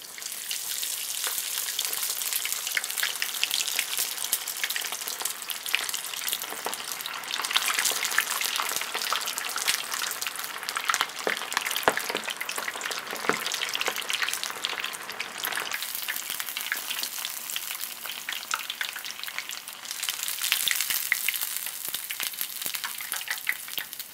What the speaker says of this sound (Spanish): Ya están aquí hechas las bolitas de arroz empanizadas. Ahora las voy a llevar al aceite muy caliente.